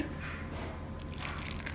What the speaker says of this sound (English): Add required amount of water